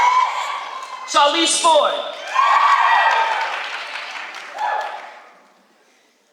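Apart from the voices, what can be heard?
audience cheering and applause at graduation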